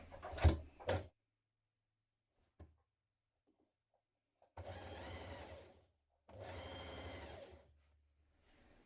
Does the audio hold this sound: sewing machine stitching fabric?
yes